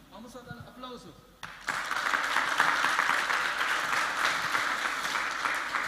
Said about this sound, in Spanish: Vamos a dar aplausos.